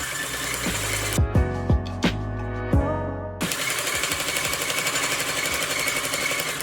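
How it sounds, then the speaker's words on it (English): A sewing machine runs in steady, fast stitching bursts while sewing the center back and vent of a dress lining, loud and close, stopping for a few seconds with single needle thumps before running continuously again. "I'm sewing down our center back portion, as well as the vent."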